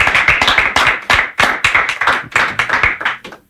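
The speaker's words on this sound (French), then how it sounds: "Applaudissez pour cela." A studio audience claps loudly and close by on a Christian music listening-session broadcast. The applause comes in rhythmic, pulsing bursts that end abruptly near the close.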